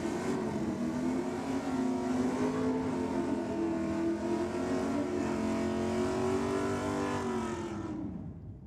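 A utility car holds a loud, sustained high rev during a drag racing burnout at a Sydney night meet, the engine droning steadily for several seconds before cutting off sharply at the end.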